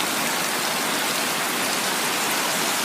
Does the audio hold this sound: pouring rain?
yes